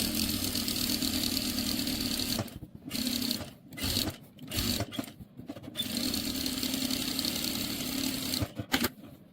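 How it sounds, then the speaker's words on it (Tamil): A sewing machine stitches around cloth for a small ladies' purse, its fast mechanical whirr running in long bursts separated by short pauses and brief stop-start runs, close and steady. "தென் அத சுத்தி அப்படியே நீங்க தையல் போட்டுக்கங்க"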